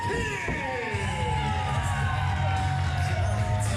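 A crowd at a wrestling show cheers and shouts as a wrestler makes his way to the ring, a dense continuous roar with yells and whoops, with a commentator's voice faintly under it.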